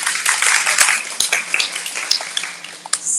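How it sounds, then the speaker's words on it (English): A small audience at a business talk session claps for a guest, with scattered, uneven handclaps of moderate loudness that thin out toward the end. "a round of applause as well for Schirin"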